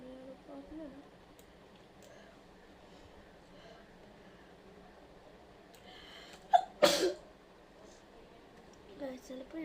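A single loud sneeze bursts out near the mister partway through, then a short breathy aftershock, set against quiet room tone and faint talk.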